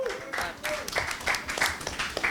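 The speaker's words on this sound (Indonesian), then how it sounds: "tepuk tangan" Scattered hand clapping from a small group at a school talk-show role-play, with a voice speaking over the claps.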